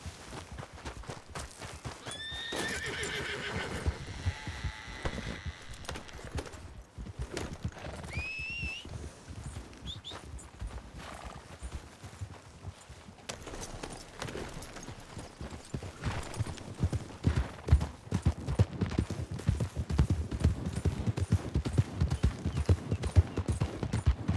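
In the RedM roleplay western game, horses trot with steady clip-clop hoofbeats that grow louder and busier toward the end, and a few whinnies and neighs ring out early.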